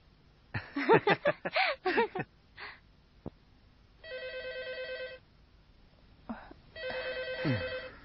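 Old Uyghur film scene with a telephone ringing in two sustained bursts of electric bell tone, close and clear, following a stretch of speech-like voices and soft chuckling.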